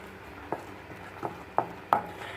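A spoon scrapes and knocks against a pan while thickening milk is stirred for palkova, giving four or five soft, evenly spaced strokes that grow slightly louder, close up with no talk.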